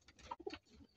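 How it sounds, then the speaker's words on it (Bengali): A male racing pigeon from the PRCG club coos softly nearby, a short, low, throaty burble of a couple of notes, faint and brief. "এটা আমাদের ক্লাবের কবুতর, PRCG ক্লাবের কবুতর"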